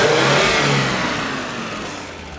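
A Chevy truck engine that has not been warmed up or driven in a while revs loudly and steadily at close range, with a light valve tap, the pitch easing down as the revs fall.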